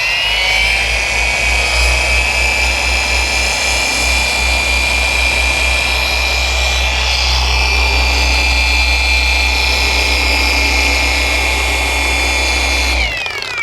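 A ShineMate car polisher running at speed 5, a steady loud motor whine with a rich mechanical hum that holds constant throughout and then drops off at the very end.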